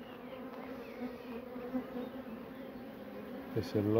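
Honeybees from a swarm with a laying queen hum steadily inside a small nucleus hive fitted with a super, a close, continuous buzz under a brief spoken remark in French.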